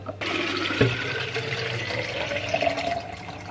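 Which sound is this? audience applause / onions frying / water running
water running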